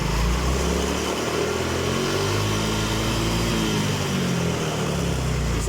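A Yamaha Mio J scooter engine revs steadily during a fuel injector wiring check, a continuous mid-pitched motor drone that stays loud and close throughout with no speech over it.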